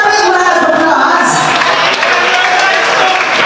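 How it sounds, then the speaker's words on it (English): Wedding guests at a Jamaican wedding reception break into loud, sustained clapping, with cheering and voices mixed in throughout. "Come on, give her a big round of applause."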